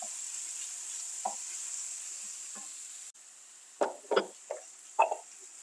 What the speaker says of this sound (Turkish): Birkaç dakikada bu şekilde kavurmaya devam ettikten sonra bu sosumuz hazır olmuş olacak.